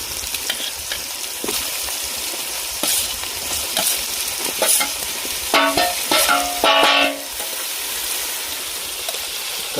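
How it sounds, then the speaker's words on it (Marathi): Goat liver frying with tomatoes in a pan for a spicy masala rice dish, sizzling loudly and steadily up close while a spatula stirs and scrapes in short bursts. No one talks. "आता आपण त्याच्यामध्ये कलेजी घालूया."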